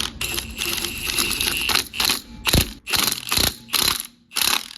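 A cheap Temu impact gun rattles loudly in short hammering bursts as it tightens car wheel nuts, one longer run followed by several quick close blasts separated by brief pauses.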